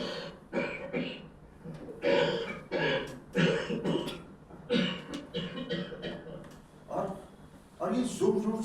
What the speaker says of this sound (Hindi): ये जोर जोर से खांसने की आवाज मुझसे दूर वाले बेड के मरीज की है